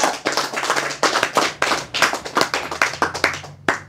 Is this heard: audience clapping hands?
yes